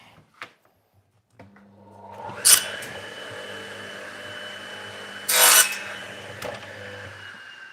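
The end of a wooden stair piece is trimmed in a workshop: a quiet hum, then two sharp loud bursts of sawing or cutting, the second lasting about half a second, with light rubbing between.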